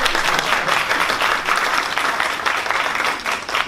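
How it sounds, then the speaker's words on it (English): A round of applause from a school event audience, dense and steady clapping from many hands that stays loud throughout. "Teresa, can we give a round of applause?"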